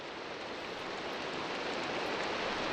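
Steady rain in Minecraft, a video game, fills the scene as an even, continuous hiss with no breaks or distinct drops, moderately loud and unaccompanied by voices.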